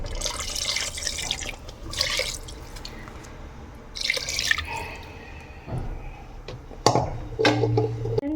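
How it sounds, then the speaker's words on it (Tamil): Water is poured into a pan of mutton gravy in several short splashing bursts with dripping in between, close and moderately loud, with no voices. "தண்ணி ஆட் பண்ணிக்கோங்க."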